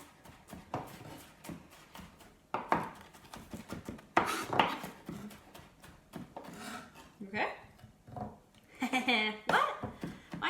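A knife minces vegetables for fermented salsa on a cutting board in a kitchen, with quick irregular chops and taps mixed with scattered handling clatter, under intermittent nearby talk.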